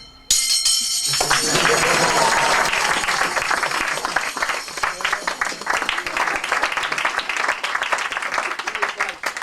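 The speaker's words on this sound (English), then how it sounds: "That's how you get the applause" An audience at a magic show with a four ring routine breaks into applause after a brief pause, the clapping swelling quickly and then thinning into scattered claps with voices underneath.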